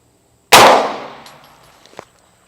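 A single loud, sharp report from an Extar EP9 pistol fired in a velocity test, close by, with a short decaying ring afterward and a faint clink as it fades.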